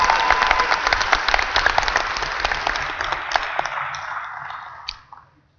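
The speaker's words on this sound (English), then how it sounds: "One more round of applause for all the participants." A large audience at a NASA Space Apps Challenge finale in Huntsville gives a round of applause for all participants, steady loud clapping that gradually thins and fades out near the end.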